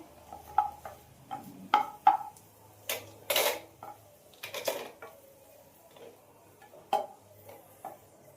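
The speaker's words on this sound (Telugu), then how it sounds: "జీడిపప్పులు అయితే వేగిపోయినాయి కదా, దీన్ని ఒక ప్లేట్లో తీసేసుకుందాం." Fried cashews scraped from a pan onto a plate make a series of light metallic clinks and taps, irregular and fairly close, with quiet gaps between them.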